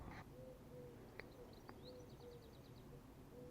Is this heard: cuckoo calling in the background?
yes